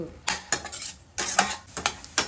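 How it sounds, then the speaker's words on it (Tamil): Onion frying in butter for paneer butter masala, stirred with a metal spoon so bursts of scraping and clattering against the pan come in uneven strokes over a soft background sizzle, close and fairly loud. "இந்த பட்டர்ல இந்த ஆனியன் வந்து ஃப்ரை ஆகிறது, ஃப்ரை ஆகி சூப்பரா இருக்கும்."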